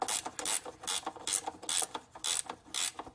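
A ratchet wrench tightening a 15 mm oil pan bolt on a 1996 Buick 3800, rhythmic bursts of close clicking strokes, about six in a row with short pauses between.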